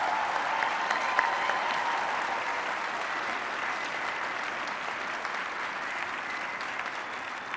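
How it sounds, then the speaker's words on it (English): Sustained applause from a crowd at a 2015 FIRST robotics regional opening ceremony, honoring event volunteers: steady, dense clapping that fills the whole stretch evenly without a break, with no voices rising above it. "a big, huge round of applause for all of these outstanding volunteers."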